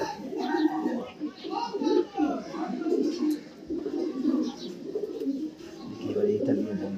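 Racing pigeons in a loft coo in low, throaty, repeating calls throughout, close by, while someone talks over them.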